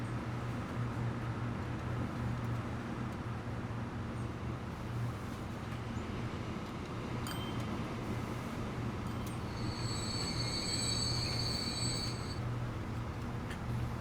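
A food train in the Transport Fever video game rumbles along steadily with a low mechanical drone, and near the end a high squealing whine rises above it; no voices are heard.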